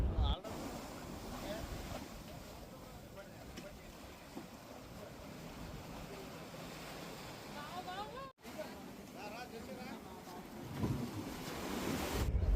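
Ocean waves wash ashore at Love Beach, Visakhapatnam, a steady broad surf roar mixed with gusting wind buffeting the microphone, while people talk nearby throughout.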